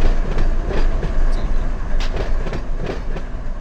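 A train rolling through a rail yard in the Run8V2 railroad simulator near Waycross, with a steady loud rumble of wheels and rhythmic clickety-clack over rail joints, continuous and close.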